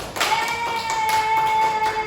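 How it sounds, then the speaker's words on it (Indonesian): A classroom gives a brief round of applause for the white group after its poetry presentation, a few sharp claps standing out over a steady tone and murmuring voices. "tepuk tangan untuk kelompok putih."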